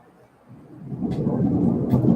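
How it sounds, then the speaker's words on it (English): Thunder from a lightning storm rolls in as a low rumble that builds from quiet to loud and stays heavy, with faint crackles on top. "Whoa, massive lightning. Holy crap. Ooh, sound incoming."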